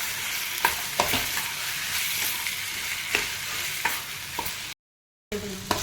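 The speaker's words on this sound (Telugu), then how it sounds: "అన్నీ మంచిగా కలిసేలాగా ఫ్రై చేసుకోవాలి." Radish, onion, tomato and green chilli for radish chutney sizzle steadily in a pan, with a spoon scraping and clacking against the pan at irregular moments, close and alone, before a short silent gap.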